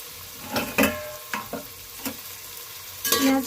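Onions fry in a pan, with a soft steady sizzle broken by several sharp scraping bursts as a utensil stirs and turns them.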